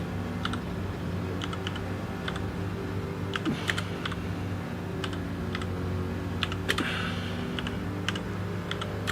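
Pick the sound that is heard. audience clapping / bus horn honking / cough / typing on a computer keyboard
typing on a computer keyboard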